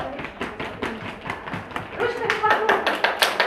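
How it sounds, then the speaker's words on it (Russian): Children stamp their feet on the floor during a group dance game, making a quick series of rhythmic thumps and taps that grow busier toward the end, with a voice carrying on over them. "Ножками потопали."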